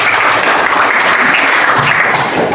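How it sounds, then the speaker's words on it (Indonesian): Classroom applause from a group of students, a steady dense wash of clapping that fills the whole short stretch at close range. "Tepuk dulu buat semuanya"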